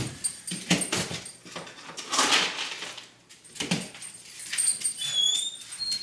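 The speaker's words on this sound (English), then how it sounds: "Let me let my dog out too." A dog whimpers and whines in short, high bursts close by, with soft rustling and movement around it and no talking.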